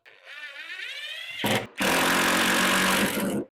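A power drill revs up with a rising whine, pauses briefly, then grinds loudly and steadily as it drives a big wood screw, stopping abruptly.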